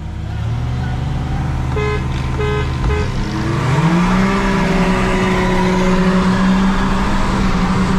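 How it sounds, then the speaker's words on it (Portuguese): Three short car horn toots in quick succession from a Volkswagen Amarok V6 at the beach, followed by its engine revving up and holding a steady drone. "Três buzinadas."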